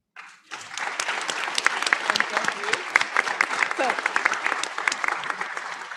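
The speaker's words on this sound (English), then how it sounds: "join me in a very warm round of applause for our spectacular panelists" Conference audience at a women's rights law event breaks into a warm round of applause for a panel, clapping that starts after a brief silence and stays full and steady.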